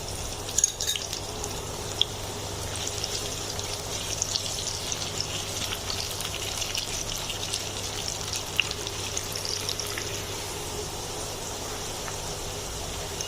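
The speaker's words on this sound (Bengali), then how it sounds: "পেঁয়াজ কুচিগুলো আমি প্রথমে একটু ব্রাউন করে ভেজে নেব" Chopped onions frying in oil until brown, with a dense, steady crackling sizzle throughout, close and continuous with no talking.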